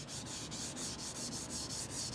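Hand sanding on wood: a rhythmic scratchy rub, back-and-forth strokes about four per second, close and steady with no voices.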